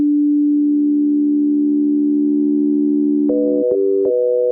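FL Studio 3xOsc synthesizer with the mix level of oscillator 3 raised to add modulation, heard as a steady, loud pure synth tone held for a few seconds before shifting through several stepped pitch changes at the end.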